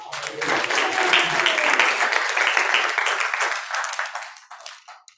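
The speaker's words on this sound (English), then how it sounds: "Let's hear it again for Lauren." A crowd applauds steadily and loudly for several seconds, then the clapping thins out and fades near the end.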